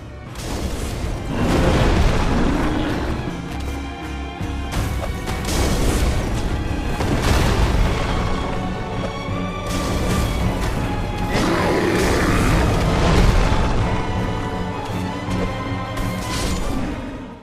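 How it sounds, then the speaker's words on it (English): Fire bombs thrown against the Taurus demon in the video game Dark Souls burst in repeated loud booms and crashes, layered with whooshes, clanks and a dense game soundscape with no speech. "Bait the Taurus demon into attacks, roll away, and throw your fire bombs."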